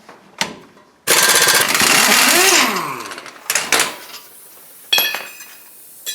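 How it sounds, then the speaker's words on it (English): A 21 mm socket drives out the caliper mount bolts on a Ford F250/F350 Super Duty 4x4. A loud, rattling hammering burst lasts about two seconds, followed by shorter bursts and metallic clinks. "Now we can use a 21 millimeter to remove the bolts that hold the caliper mount on."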